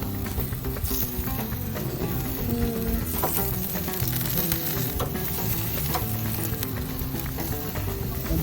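Kebabs sizzling on a camping grill as they are turned, a loud continuous frying hiss with scattered crackles and scraping clicks of a utensil, close up, with no voices.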